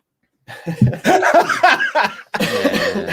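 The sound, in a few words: cough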